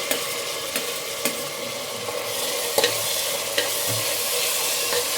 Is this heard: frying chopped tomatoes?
yes